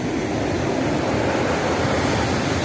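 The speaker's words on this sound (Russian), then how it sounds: "И вот такие волны, супер волны." Sea waves on Dolphin beach at Lazarevskoye make a loud, continuous roar of surf, a dense and steady rush that fills the scene without pauses.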